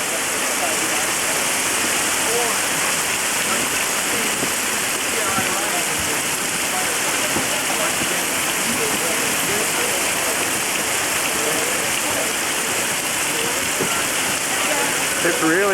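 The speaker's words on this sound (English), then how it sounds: "How long is it gonna keep raining?" Heavy rain pours down steadily in a dense, constant hiss with no letup, loud and close throughout.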